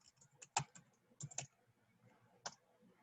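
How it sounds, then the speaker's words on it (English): Keys on a computer keyboard struck in a few scattered, quiet taps with pauses between them, faint and with no voices. "So you type in absolute value function"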